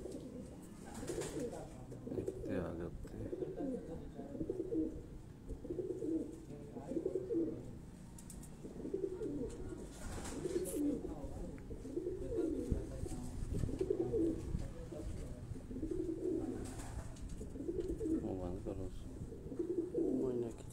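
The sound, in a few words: racing pigeons cooing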